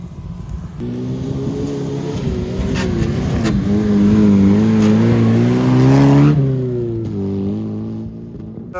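An off-road car engine running on only two cylinders drones nearby during an off-road ring race, rising in revs and then easing off, its tone uneven and labored like a struggling motor.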